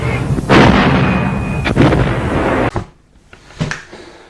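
Artillery fire sound effect played during a Memoir '44 board game, several loud booming blasts with rumbling tails, a sharp crack and a final distant thump, heard close and alone.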